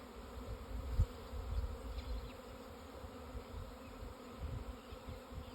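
A honey bee swarm buzzes steadily during a transfer into a swarm trap, a dense continuous drone of many insects close by with occasional louder passes, faint overall.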